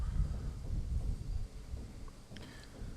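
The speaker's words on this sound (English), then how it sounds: "Boys, I think we're fixing to get ourselves a little storm." Low distant rumbling of thunder from an approaching storm rolls steadily near the shore, faint and continuous, with no talking.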